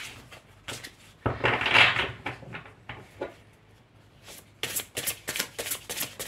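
Tarot cards shuffled by hand at close range, with a few short riffling bursts early on and a faster run of crisp, papery flicks toward the end.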